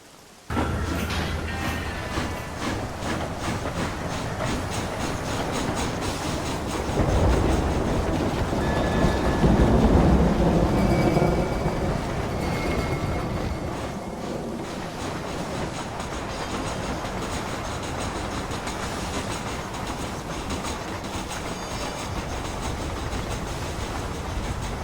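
A moving train in the video game Red Dead Redemption rumbles steadily with rhythmic wheel clatter for the whole stretch, swelling louder midway before easing back, with no talk over it.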